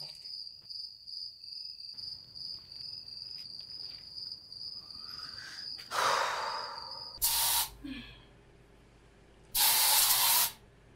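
Three short, loud hissing bursts of spray come at uneven intervals over a steady background of chirping crickets.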